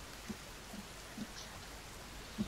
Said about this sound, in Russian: И дождь идет.